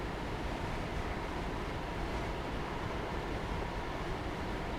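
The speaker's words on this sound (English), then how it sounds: "you can hear the wind whistling past in your left ear" Steady, loud rushing wind streams past an open cab window on a train in Train Sim World 2's Cathcart Circle Line, a broad continuous roar with low rumble underneath and no voices.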